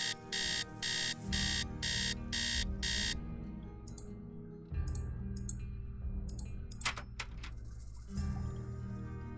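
An alarm clock rings in the Nancy Drew game Secret of the Scarlet Hand, a loud pulsing buzz in about six quick bursts before fading into quieter game ambience.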